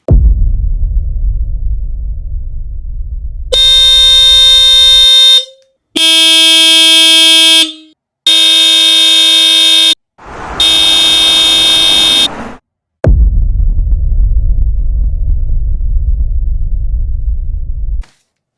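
A Hella car horn rated 118 decibels blasts in four loud bursts, each a second or two long, with short gaps between them and engine rumble before and after.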